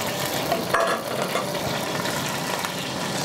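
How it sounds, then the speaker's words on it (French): Guinea fowl browning in hot oil in a pan, giving a steady, dense sizzle that runs without a break, with a faint stir or shift of the meat early on. "on va faire revenir la pentade à l'huile"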